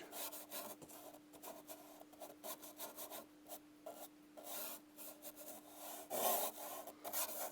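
A bristle brush scrubs oil paint thinned with turpentine into a canvas, a faint, close, dry rasping in quick uneven strokes with brief pauses between bursts.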